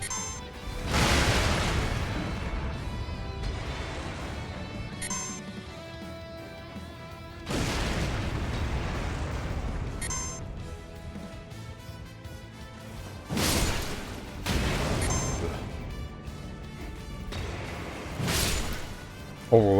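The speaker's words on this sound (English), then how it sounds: "I'm gonna throw your damn bombs." Bombs hurled and bursting in Elden Ring, several separate crashing blasts spaced through the stretch, each with a sharp smashing onset and a rumbling tail, loud over steady game noise with a voice talking at times.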